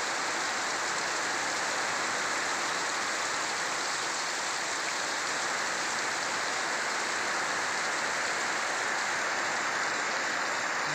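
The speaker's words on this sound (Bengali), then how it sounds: "প্রচণ্ড বৃষ্টি, প্রচণ্ড।" Heavy rainfall in Bangladesh pours down as a dense, unbroken roar of falling water, loud and even from start to finish with no voices.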